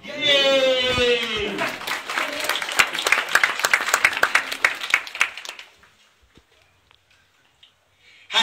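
An audience at a startup pitch event for the Happy Mini robot cheers with a brief shout, then breaks into dense, steady clapping that lasts several seconds before stopping abruptly into near silence.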